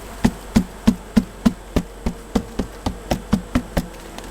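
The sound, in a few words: honey bees buzzing around a hive frame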